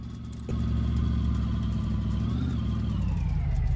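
A supercharged car engine catches and runs at a steady idle, close and loud, with a high whine above the rumble that rises and then eases.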